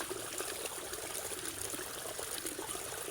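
Water trickles and flows steadily through a rice paddy in the countryside. A continuous, soft, bubbling stream runs evenly throughout and sounds fairly faint and close.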